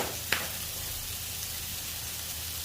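Burger patties sizzling on a flat-top cast iron griddle, a steady hiss of frying with one brief pop near the start, close and continuous, no talking.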